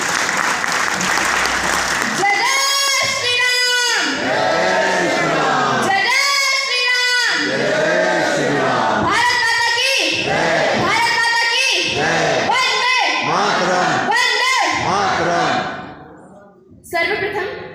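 Loud, sustained clapping from an audience at a Hindu gathering (Virat Hindu Sammelan, Geeta Bhavan), with voices carrying over the applause; it tapers off near the end.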